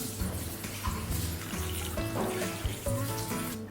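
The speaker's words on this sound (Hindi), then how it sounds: "अब चिकन लीजिए और पहले उसे अच्छे से आप धो लीजिए, वॉश कर लीजिए" Raw chicken being washed under a running kitchen tap, steady splashing and trickling water broken by irregular knocks and handling sounds, close and fairly quiet with no talking.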